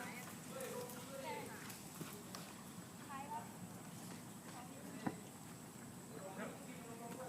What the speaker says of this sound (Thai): เอาเดินครับเดิน พาพักม้าเนี่ย